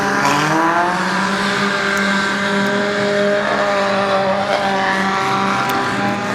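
Loud, raw engines roar continuously up close, several superstock race cars with exhausts removed droning and revving together with a harsh, unmuffled rasp, at a superstock race meeting in Wellington.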